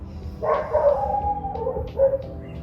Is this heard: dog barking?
yes